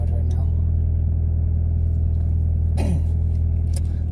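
A car with a loud aftermarket exhaust idles warm with a steady low rumble throughout, while a person talks briefly over it.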